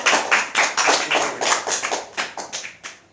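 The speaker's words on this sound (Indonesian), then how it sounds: "Beri tepuk tangan untuk kelompok pertama" A classroom group claps together for about three seconds, steady applause from many hands in a room, fading slightly toward the end.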